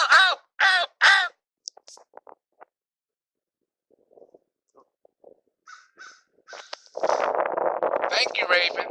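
A raven gives three loud, harsh caws close by, followed by scattered faint clicks and short calls, then a person speaks.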